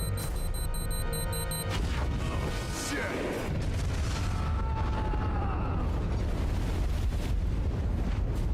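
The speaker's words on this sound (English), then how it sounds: "Oh, he has an explosion?" A bomb goes off in a video game with a loud, deep boom and rumbling blast, followed by continuous dense game noise and further crackling impacts.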